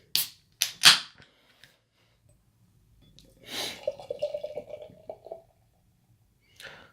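A Juicy Nuggets X2 double IPA from 450 North Brewing Company is poured from a can. A few sharp clicks and taps come first, then a steady glugging pour of beer lasting a couple of seconds, followed by a faint fizz.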